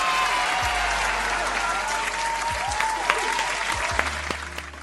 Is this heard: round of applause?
yes